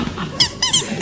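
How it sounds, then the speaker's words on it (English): A squeaky chair creaks in a room, several short high-pitched squeals in quick succession, loud and close. "You've got some very squeaky chairs in here"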